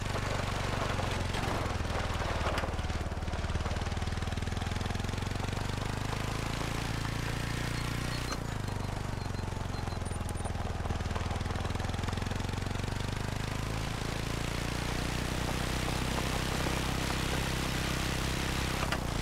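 A small engine idles like a lawn mower in theHunter: Call of the Wild, a continuous loud knocking chug that holds steady with slight shifts in pitch, with no talking.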